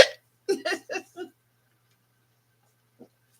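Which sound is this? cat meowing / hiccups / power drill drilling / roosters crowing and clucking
hiccups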